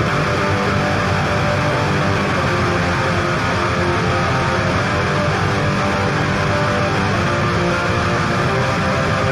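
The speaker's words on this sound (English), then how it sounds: "the main rhythm guitars for the chorus sound something like this" Dense, loud distorted rhythm guitars strumming a song's chorus continuously in a full band mix, thick and wall-like throughout.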